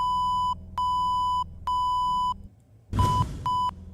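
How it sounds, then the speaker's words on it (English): Morse code sent as a steady electronic tone in long and short beeps: several evenly spaced long dashes, a short burst of noise, then two shorter dashes, all clear and close with no talk. "so a long beep, you'll hear the difference between like it'll go beep"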